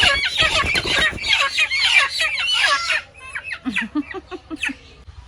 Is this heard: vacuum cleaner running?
no